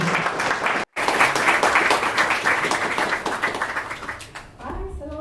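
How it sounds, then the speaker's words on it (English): Audience applause at a creative-spaces showcase event fills the room with dense, sustained clapping after a brief break, fading toward the end as a voice begins to speak. "Please give her a big round of applause."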